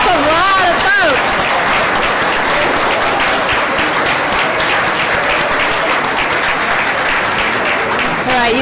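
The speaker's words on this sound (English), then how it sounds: "Please give them a round of applause." Loud, dense applause from a large commencement audience honoring graduates' families, continuous clapping mixed with cheers and whoops throughout, a few voices calling out near the start.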